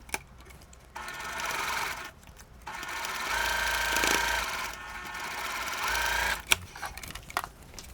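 Bursts of sewing machine stitching run a quarter-inch seam on a Christmas star quilt block, steady mechanical whirring with short pauses between runs and a sharp click near the end.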